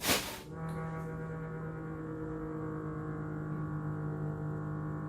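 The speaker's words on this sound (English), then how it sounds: "I think somebody might be running their" A garbage disposal runs, a steady low mechanical hum with strong tonal harmonics droning on after a brief burst of noise at the start, constant and moderately loud.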